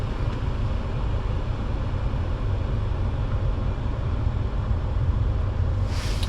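A car engine idles steadily throughout a battery and charging-system test with headlights and air conditioning switched on, a continuous low rumble with no talk.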